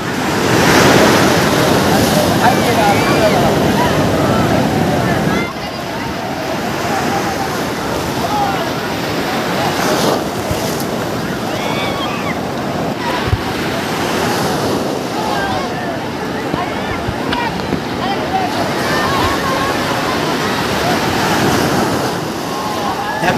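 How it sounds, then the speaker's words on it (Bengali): Ocean surf rolls onto the beach at Puri as a loud, continuous roar with some wind buffeting the microphone, and waves swell and break again and again while people talk faintly in the background. "একটা বড় ঢেউ আসছে, বড় ঢেউ আসছে।"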